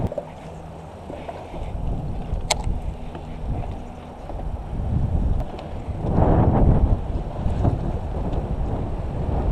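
Strong wind gusts buffet a fishing boat on Lake Jacksonville, Texas, a rough, continuous roar of wind noise that swells louder in surges, with faint water and boat sounds beneath.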